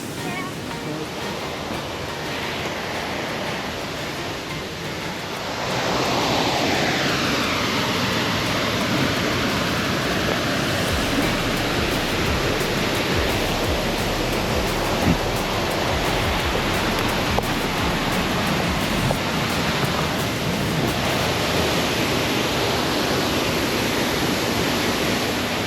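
A waterfall roaring up close, a loud steady broadband rush of falling water that swells fuller after the opening seconds and continues unbroken throughout.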